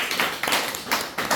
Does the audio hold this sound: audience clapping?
yes